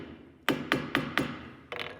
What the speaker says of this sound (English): I'm going to put it on the mandrel and hold both of these sides and kind of squeeze a little bit and hammer on these parts